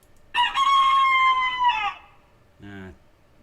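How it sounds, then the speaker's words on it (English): A rooster crowing sound effect from the Smile Game Builder video game gives one long loud crow followed by a short clucking call, clear and close with nothing else over it. "That's not actually a chicken, that's a rooster"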